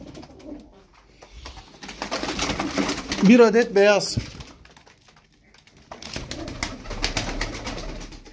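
Young Turkish tumbler pigeons coo and flutter nearby while someone talks over them, the birds' soft warbling calls rising and falling throughout.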